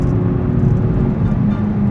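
Cabin of a BMW X3M SUV cruising at steady speed on a highway, a loud, even low rumble of road and engine noise with no break or change.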